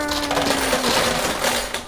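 A towering stack of coins topples off the ledge of a high-limit arcade coin pusher, a loud, dense metallic clatter and jingle of many coins spilling together for nearly two seconds with no talking.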